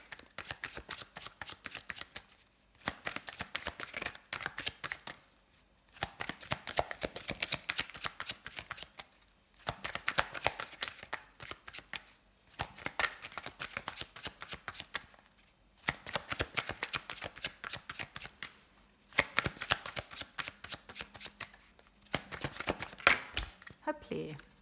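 Tarot oracle cards are shuffled close up in repeated bursts of rapid riffling, several seconds each, separated by brief pauses, while a voice talks softly throughout.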